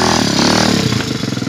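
A kids' 60cc dirt bike, a Zeno 60cc or TM XRX mini, on a forest trail climbing over a log, its small engine buzzing loudly and close, revving then dropping into an uneven chugging pulse.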